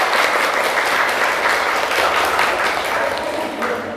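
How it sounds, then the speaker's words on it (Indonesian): A class of students applauding together indoors, a dense sustained burst of clapping that stays loud and even for a few seconds before easing slightly. "Tepuk tangan buat Mbak Zara."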